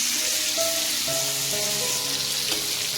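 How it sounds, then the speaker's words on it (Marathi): Prawns fry in a hot pan with a constant loud sizzle and crackle, close up and unbroken, with faint tonal hum beneath and no voices. "एक साईड शिजलेली आहे आपली कोळंबी एक साईड शिजलेली आहे आता आपल्याला दुसऱ्या साईडनी पलटी करायची आहे"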